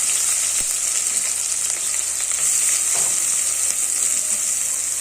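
Chopped onions and dried red chillies fry in a pan for a leafy amaranth and tomato curry, a loud, even, bright sizzle filling the whole stretch with faint stirring under it.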